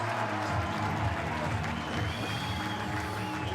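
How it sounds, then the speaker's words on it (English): Stadium crowd at an NRL rugby league match between Manly-Warringah Sea Eagles and Wests Tigers sends up a distant, steady roar of cheering and clapping, a continuous wash of noise with faint tonal hum underneath. "You heard the cheer in the background as Jerry Evans lines up this kick."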